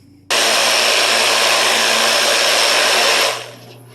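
A UV-10 rock tumbler rolling rocks in polish and borax starts with a sudden, loud, steady motor whir that holds evenly for about three seconds, then winds down and fades.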